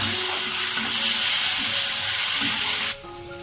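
Ginger garlic paste stirred into softened onions in a pan for potato chop, a steady close sizzle with soft stirring scrapes that drops away abruptly near the end.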